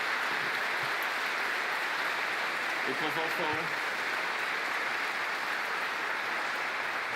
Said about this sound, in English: he deserves both a hug, but also a big round of applause